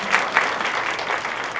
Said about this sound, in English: you go ahead and clap